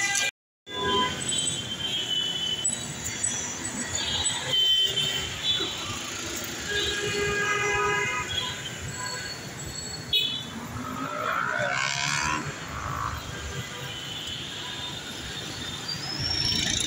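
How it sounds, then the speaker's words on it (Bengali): A metro rail train passes on the road in front of Dhaka University's central library, a steady rumble with brief squealing and rattling through much of the recording, amid general street noise. "Metro rail."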